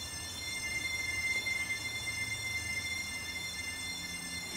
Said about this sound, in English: Now your train is really slowing down.